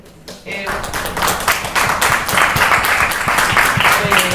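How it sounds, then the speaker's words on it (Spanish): An audience bursts into applause at a literary talk, a dense rolling wash of many hands clapping that builds quickly after a brief quiet opening and stays loud and steady to the end. "el aplauso es para todos"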